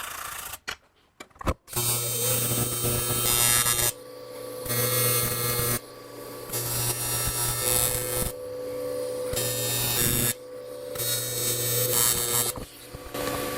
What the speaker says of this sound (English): I'm going to start tack welding it to the seat.